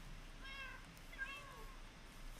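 Two soft, fairly faint meows from a cat in the video game Minecraft, about a second apart, over a low steady background hum.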